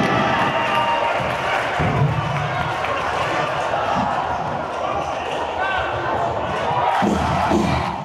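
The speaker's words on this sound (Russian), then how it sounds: "Болельщики на трибунах из разных уголков страны активно и эмоционально поддерживали брещан." Crowd of fans in the stands at a handball match in Brest, a loud continuous roar with shouts and cheering, ball bounces and court noise underneath, while a voice talks over it.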